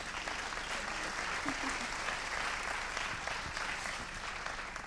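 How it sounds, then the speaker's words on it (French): An audience at a national solar energy conference claps steadily throughout, a dense, even wash of applause with no pauses. "On peut applaudir."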